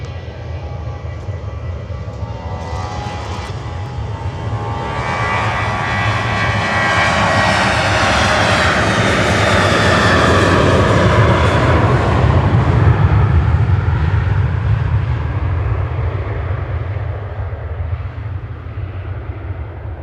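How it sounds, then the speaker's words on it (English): A Jet2 passenger jet at Manchester Airport passes by, its engine roar swelling from a distant rumble to a loud, broad peak and then slowly fading away, with no talk. "Jet2 flight 903 to Thessaloniki."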